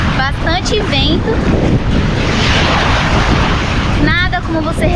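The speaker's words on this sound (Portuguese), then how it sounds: "bastante vento" Strong wind buffets the microphone at a beach in Trinidad, Cuba, a steady roaring rush with surf noise underneath, while a person talks briefly at the start and again near the end.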